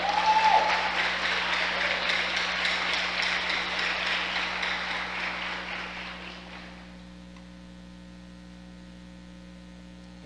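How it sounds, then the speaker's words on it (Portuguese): Congregation applause at a church conference, a dense wash of clapping that holds for several seconds and then fades away, leaving a steady electrical hum underneath. "Pode dar uma salva de palmas a Ele?"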